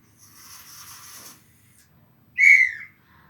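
A soft breathy whistled phrase, then after a pause a sharper, louder rising whistle, imitating a bird call; no other sounds.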